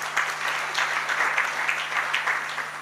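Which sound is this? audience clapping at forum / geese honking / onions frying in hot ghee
audience clapping at forum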